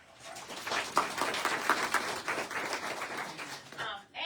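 An audience at a VIP fashion show at a Four Seasons store in Geneseo, Illinois, breaking into a few seconds of steady applause, moderately distant, with brief whoops over the clapping.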